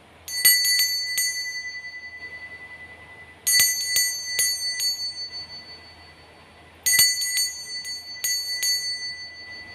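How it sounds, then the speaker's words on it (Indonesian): A bright bell rings in three separate bursts a few seconds apart, each strike ringing out and decaying over a low steady hum. "Kita akan memulai dengan ditandai lonceng berbunyi."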